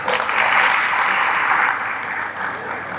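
Sustained applause from the audience at a minority rights convention, a dense, loud wash of clapping that holds steady, then eases slightly toward the end.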